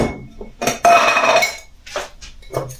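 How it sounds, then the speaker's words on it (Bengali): A spoon clinking against a metal tea canister and pot while tea leaves are scooped out, several sharp metallic clinks and scrapes close by in an otherwise quiet kitchen. "1 2 চামচ চা পাতা দিতাম।"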